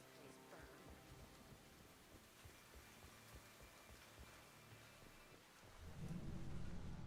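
Steady rain hiss with low thunder rumble in a Mass Effect 2 mission, a constant wet downpour that swells into a louder, deeper roll of thunder near the end, with no other sounds over it.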